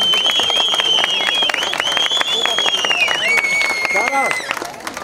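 Wedding guests clap in a crowd, sharp claps scattered beneath a loud, wavering high melody and voices at a lively celebration.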